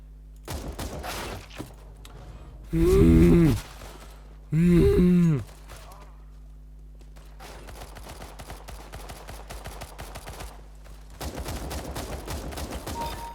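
CS:GO gameplay gunfire: scattered sharp shots and rapid bursts crackle through the clip, broken by two loud dense volleys, with a steady electronic hum underneath.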